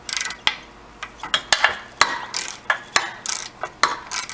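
A ratchet with a regular 5/8 socket backs off the nuts on a Mercury Alpha One sterndrive lower unit, giving a close, loud train of quick metallic clicks in irregular bursts, with no speech.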